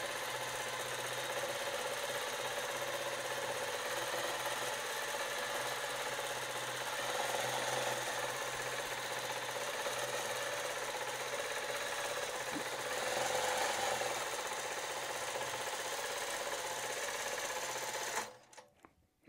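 A long arm quilting machine stitches a light, quarter-inch line through a fabric panel, running as a steady, continuous close-up whir for about eighteen seconds before cutting off abruptly.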